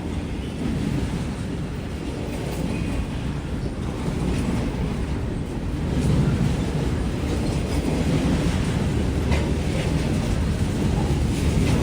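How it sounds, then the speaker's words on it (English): An intermodal freight train of containers rolls steadily past, a broad continuous low rumble with a faint clatter of wheels that swells slightly in the second half, with wind buffeting the microphone and no voices. "the impenetrable line of intermodal containers"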